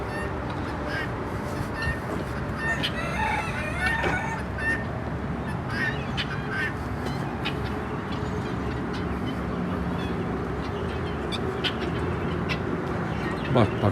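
Harsh, repeated guinea fowl calls cackling over a noisy farmyard background, continuous and moderately loud, with some indistinct voices mixed in.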